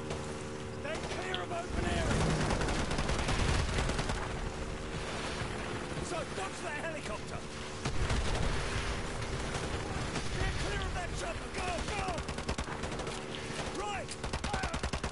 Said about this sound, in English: Let's just keep shooting at that raft.